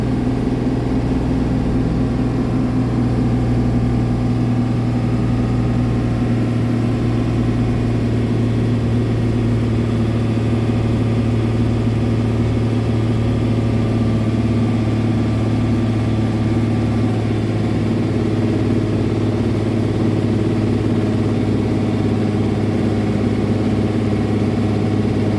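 Fendt Favorit 926 tractor engine running steadily under load on a PTO dynamometer brake, a constant deep drone with a strong low hum, continuous and close for the whole stretch without talk.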